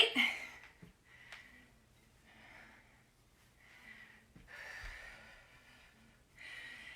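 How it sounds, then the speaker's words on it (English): Heavy breathing during a high-intensity interval and core workout comes in a series of soft, rhythmic breaths and exhales, close but fairly quiet, with no talking. "I want you to be able to hear me breathing"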